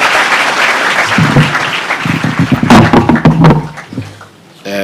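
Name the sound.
audience applause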